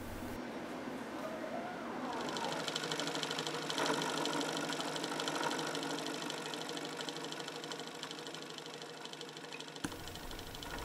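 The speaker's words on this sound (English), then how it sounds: "I'm finally doing some conventional milling with light cuts" A milling machine takes light conventional cuts on a steel T-nut, giving a steady, close whirring grind with a faint knocking rhythm that runs through the whole stretch.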